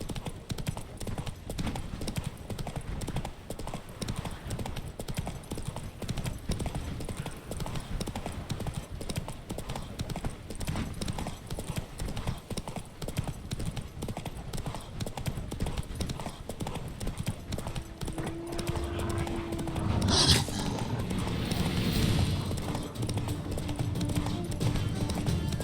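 Roach, a horse in The Witcher 3, gallops with a steady, rapid clip-clop of hooves that runs throughout at moderate volume, with a brief louder whinny-like burst late on.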